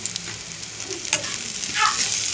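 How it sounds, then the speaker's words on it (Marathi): Masala with turmeric and coriander powder sizzles and fries in a pan for paneer bhurji, a steady close hiss with light stirring scrapes and a brief louder flare near the end. "पुन्हा एकदा आपण चांगलं परतून घेऊ मसाला"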